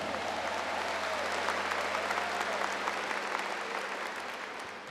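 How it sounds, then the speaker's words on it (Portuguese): An audience at a national Catholic retreat bursts into sustained, even applause, a thick continuous roar of clapping from a large crowd that holds steady and tapers slightly at the close. "Dá uma salva de palmas para o nosso Deus"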